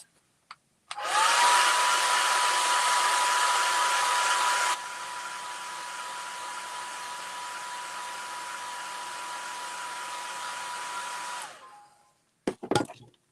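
A hair dryer blows steadily on fresh paint on a mermaid tail craft, a close, loud whooshing hum with a faint whine that drops to a lower setting midway, then switches off, followed by a few small handling clicks.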